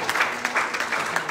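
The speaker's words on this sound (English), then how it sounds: "Will you clap your hands unto the Lord?" Church congregation clapping hands together during a service, a brief, steady crowd of claps at a loud, even level.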